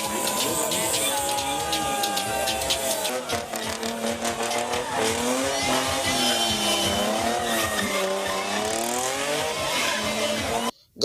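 Drift cars performing stunts at a carnival, with loud continuous tire squeal and revving engines sweeping up and down in pitch, close and dominant throughout.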